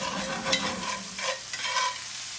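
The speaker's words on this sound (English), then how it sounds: "So stir all this in. Crush up those tomatoes, creating a little bit of a sauce." Crushed tomato sauce is stirred in an iron skillet, a continuous close sizzle and frying hiss with a spoon scraping through the pan in a few sweeping strokes.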